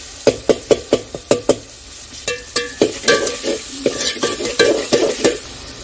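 Green peas tossed into a hot pan of spiced oil and fried while being stirred: a run of sharp, rhythmic spoon or ladle knocks against the pan, then a steady close sizzle under continued scraping stirs, no talk.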